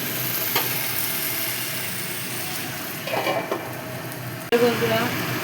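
Okra frying in a pan with salt and turmeric gives a steady close sizzle throughout, with a few scrapes and clatters of a stirring utensil against the pan.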